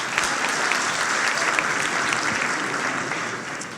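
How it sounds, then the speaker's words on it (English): Sustained audience applause at a Jewish women's leadership council event, a dense, even wash of many hands clapping that holds steady before easing slightly at the end. "Let's have some applause."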